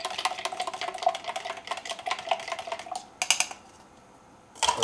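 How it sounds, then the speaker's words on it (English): Spoon stirring a drink inside a plastic shaker bottle, rapid close clinking taps in a steady run, a brief pause, then another short burst of stirring. "I think what we'll do is just stir that up in there, would be fine"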